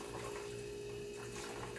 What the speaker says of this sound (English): Add a little bit more water to it because it looks like we can get some more milk from it.